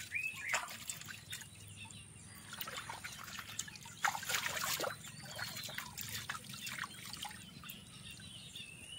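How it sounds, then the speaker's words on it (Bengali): A lemon is washed in pond water at a bathing ghat, giving soft, irregular splashes and trickles close by over a faint background hum, with a few birds in the distance. "এবার লেবুটাকে ভালোভাবে ধুয়ে নেব।"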